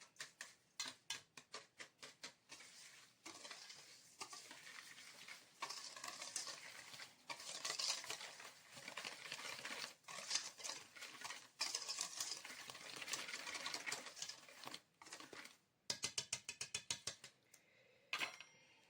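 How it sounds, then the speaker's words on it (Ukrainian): Sugar being stirred by hand into a honey cake cream mixture, a steady run of scraping, clicking strokes against the bowl, with short pauses and a faster burst of stirring near the end. "додаємо сюди 200 грамів цукру. 200 грамів. Перемішуємо."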